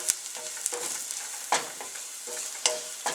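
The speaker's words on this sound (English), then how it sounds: "I'm going to give that a stir and smell that garlic" Garlic and basil stirred in a hot pan, a constant sizzle broken by several sharp scrapes and clicks of the utensil on the pan, close by with no one talking.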